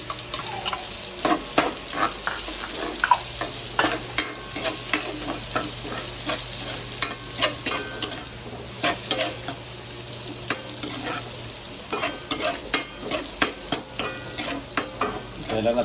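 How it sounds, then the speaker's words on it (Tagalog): Onion and garlic sauté in a pan for a Filipino pork dish, a steady close sizzle broken by repeated scraping strokes of a spatula stirring the pan, with no talk. "Kailangan natin mag-golden brown yung sibuyas at ang bawang."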